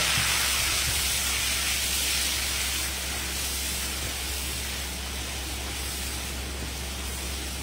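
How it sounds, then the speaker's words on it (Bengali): Shrimp frying lightly in hot oil, a loud, continuous broadband sizzle that starts strongest and settles into a steady hiss, heard close and alone. "গরম তেলে আমি চিংড়ি মাছটা হালকা ভেজে নেব।"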